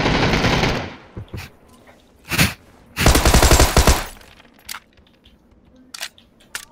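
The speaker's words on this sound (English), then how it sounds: "Shots northwest." Bursts of video game gunfire, a dense sustained volley up front, then several short loud rattles and scattered single shots spread across the clip, close and sharp with quiet gaps between.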